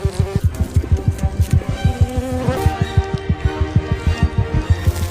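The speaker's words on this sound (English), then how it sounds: "Bees." Bees buzz steadily at close range around treehoppers on a tree, a dense pulsing insect drone with repeated loud wingbeat surges and no talking.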